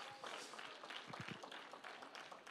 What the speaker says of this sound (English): Can we clap our hands together for Jesus?